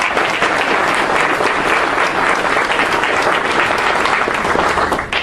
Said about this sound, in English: A round of applause for Rhode Island.